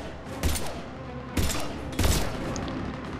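Three loud shotgun blasts boom in Mass Effect 3 combat, spaced about a second apart over a rumbling background.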